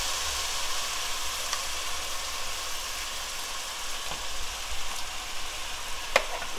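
Korean beef bulgogi made with thinly sliced hanwoo beef sizzles steadily in a pan, cooking in its own fat without added oil; a continuous frying hiss runs throughout with a few faint clicks, and no one speaks.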